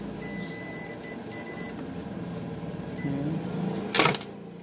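A short, bright electronic multimeter continuity beep sounds once near the end, standing out over a steady background hum and faint tonal whine, while a shorted HP Mini netbook is checked for repair.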